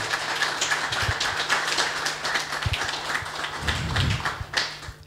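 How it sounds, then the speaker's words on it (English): A small audience claps after a presentation about an agriculture-focused FabLab. The applause is sparse and uneven, with separate close claps standing out against a light background hum. "Thanks a lot, and applause for you."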